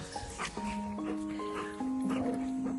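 A dog yelps and whimpers in long, high, wavering cries mixed with short barks, close and loud throughout.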